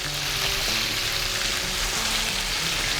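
Small tomato pieces for pepper rasam stew in a pan, a steady close bubbling sizzle with a low hum underneath and no talking.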